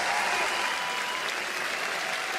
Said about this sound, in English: can we get a huge round of applause and a cheer for GH and Nigma Galaxy